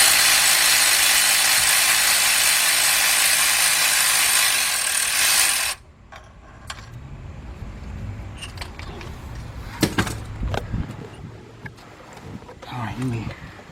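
Engine bolts on a Chevy Equinox or Buick Rendezvous being worked out during a head gasket and timing chain job: a loud, continuous mechanical whir cuts off abruptly, then scattered clicks and clanks follow as someone talks.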